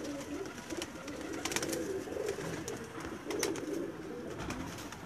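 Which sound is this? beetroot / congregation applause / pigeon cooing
pigeon cooing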